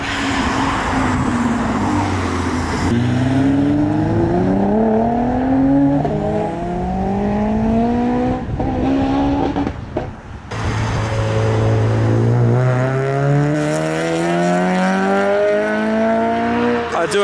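A Nissan GT-R R35 and other modified cars pull away from a track day at Castle Combe, engines revving hard through rising gear sweeps, one after another, loud and close, with turbo whooshes between shifts.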